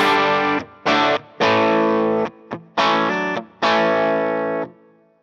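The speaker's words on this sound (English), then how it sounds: "Let's go to the bridge pickup, and we will go back to Andreas' patch and go to his boosted" Electric guitar on the bridge pickup through a Line 6 Helix boosted snapshot, five loud distorted chords and stabs with ringing sustain and sharp breaks between them, played alone.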